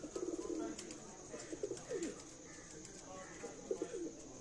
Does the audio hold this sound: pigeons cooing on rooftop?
yes